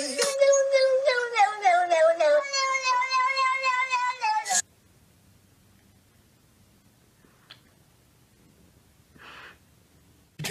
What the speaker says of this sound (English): What does a cat say?